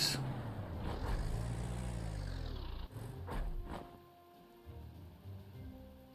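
Rain falls in the World War II strategy video game Panzer Corps 2, a soft, steady hiss heard quietly alongside low rumbling battle sounds that fade in and out.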